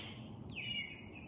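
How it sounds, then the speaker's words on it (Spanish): A bird chirps once in quiet countryside near a home garden, a single faint, high, descending call over a soft, hushed background. "Esos sonidos, esos pájaros, ustedes no saben cuánto me tranquilizan cuando escucho este silencio así, solo escuchar los pajaritos."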